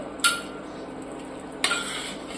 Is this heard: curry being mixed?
yes